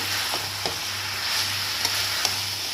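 Small mourala fish go into hot oil for a stalk curry, giving a soft continuous sizzle with a few faint stirring clicks and a low steady hum underneath.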